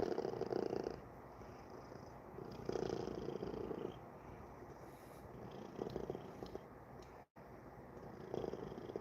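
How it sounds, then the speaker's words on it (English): A soft, close cat purr rumbles steadily in slow breathing cycles, faint and continuous with no talk. "I can slightly hear her purr"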